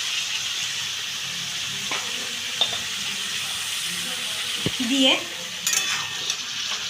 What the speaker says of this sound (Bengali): বেগুন আর আলুটার সাথে ভালো করে মিশিয়ে নিচ্ছি।